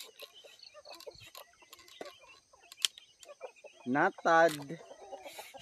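Farm chickens cluck around a rural yard in the early morning, with a couple of louder calls near the end over scattered chatter and insect buzz; people speak intermittently throughout.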